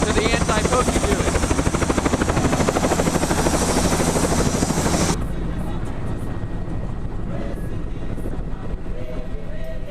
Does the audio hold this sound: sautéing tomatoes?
no